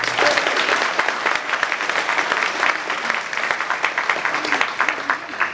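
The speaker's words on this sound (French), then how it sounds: "Merci d'applaudir EasyWen" An audience applauds to welcome a table tennis player at a presentation event in Franche-Comté, the clapping sustained and rhythmic with some individually distinct claps standing out, moderately loud throughout.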